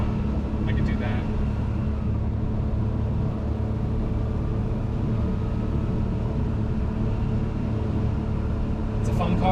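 A Porsche 993 Twin Turbo 911 on a test drive gives off a loud, steady low engine drone mixed with road rumble, holding an even level throughout from inside the car.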